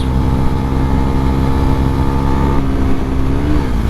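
Husqvarna Svartpilen 401 single-cylinder motorcycle engine pulling steadily under acceleration, a loud continuous mid-pitched drone with a slight shift in pitch near the end as revs change.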